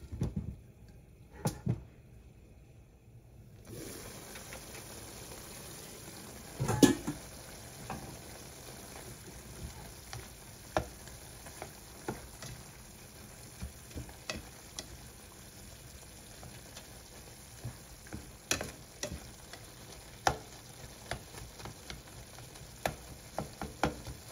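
Ground beef for beef giniling browns in a pan with a low, steady sizzle, broken by sharp utensil clicks and scrapes scattered throughout, with no voices.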